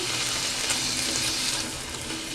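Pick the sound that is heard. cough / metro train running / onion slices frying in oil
onion slices frying in oil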